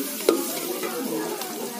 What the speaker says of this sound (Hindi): इसको ब्राउन कलर का भूनना है।